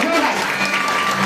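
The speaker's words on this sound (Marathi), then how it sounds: "एक जोरदार टाळ्या वगैरे पुन्हा एकदा जोरदार" Applause from guests at a Marathi baby shower (dohale jevan) gathering, a busy wash of clapping with some talk mixed in underneath.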